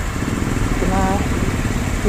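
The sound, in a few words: motorcycle engine idling to warm up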